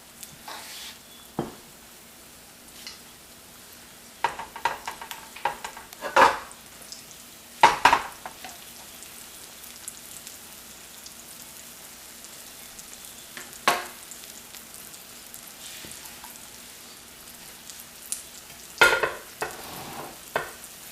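Vegetables frying in a pan on the stove for a healthy breakfast, with steady low sizzling broken up by scattered clinks and scrapes of a utensil stirring against the pan.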